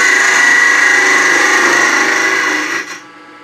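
A wood lathe hums loudly as a tool scrapes the inside of a small turned birdhouse ornament, a steady whirring tone that winds down and fades near the end.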